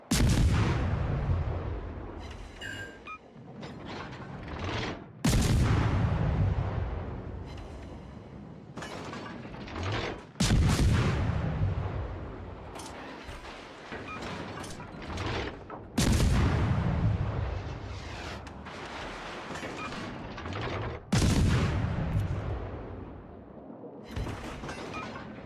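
Heavy naval guns of the Tashkent destroyer in World of Warships fire in five loud, booming salvos about five seconds apart, each a deep blast followed by a rumbling decay with faint mechanical clatter between shots.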